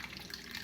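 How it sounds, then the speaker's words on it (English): Half a cup of water pours into a measuring cup while making keto pizza dough, a brief, steady close trickle with no voices. "So I'm gonna put 1/2 cup of water."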